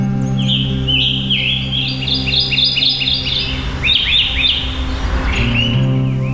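Songbirds in a Mesoamerican forest trill and chirp in rapid, overlapping phrases, bright and close, over a steady low background hum.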